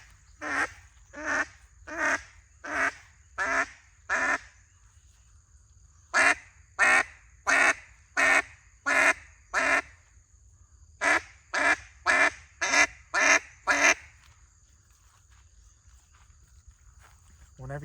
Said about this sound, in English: you're gonna get a little bit of a deeper sound, deeper quack